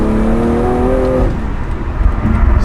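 BMW with an M Performance catalyst downpipe accelerating on a highway: a loud, rising exhaust drone with clear engine harmonics for the first second, then settling into rougher road and wind roar.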